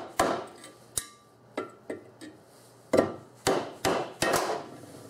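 A rubber mallet strikes a flathead screwdriver to knock the old timing cover oil seal out of a Chevy 350 small-block, giving about ten sharp, close knocks in irregular bursts with short ringing tails.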